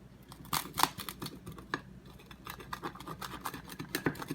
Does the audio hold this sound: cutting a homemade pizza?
yes